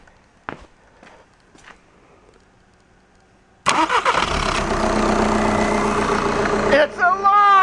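After a few quiet clicks and footsteps, a VW TDI CJAA diesel engine, out of the car on a shop floor, cranks and fires up abruptly, then runs loudly and steadily to the end.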